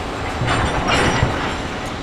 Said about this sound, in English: Trains, y'all. They be out there moving.